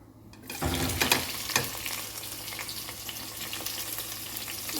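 Onions dropped into a hot pan, an initial burst of sizzle settling into a steady, moderate frying hiss with occasional stirring scrapes.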